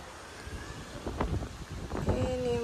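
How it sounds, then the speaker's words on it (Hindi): Strong wind gusting through tall neem and other trees, bending them. It makes a steady, rough rumble that swells in the middle and latter part, with faint voice-like tones in the background. "कितनी जोर से हवा चल रही है जिससे कि यहाँ शपल के पेड़ तक झुक गए।"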